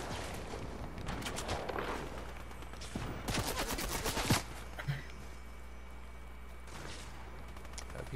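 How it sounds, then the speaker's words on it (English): Long-range gunfire in a Fortnite match arrives in several short, rapid bursts of cracking shots separated by quieter stretches, with a low hum underneath and no speech. "Got people shooting at me, long range"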